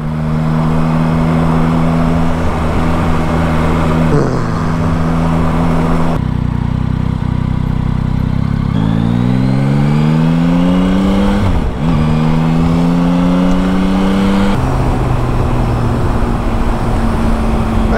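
A Yamaha Tracer 900 GT motorcycle engine pulls hard on the road, loud and close, its pitch climbing through repeated rising sweeps with brief dips at gear changes over steady wind roar.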